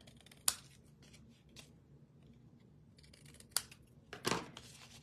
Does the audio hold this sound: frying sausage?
no